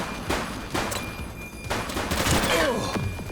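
Gunfire erupts during a police shootout with a suspect in the video game The Precinct. Several loud, sharp bursts of shots crack out at irregular intervals over a couple of seconds.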